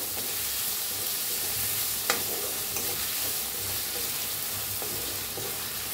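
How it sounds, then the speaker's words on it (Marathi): Finely chopped onion with curry leaves, ginger and crushed green chilli frying in a pan for a masala okra dish, a steady close sizzle broken by a few soft stirring scrapes. "आपण असं बारीक कांदा करून घेतलाय एक, हलवून छान असं भाजून घेऊया।"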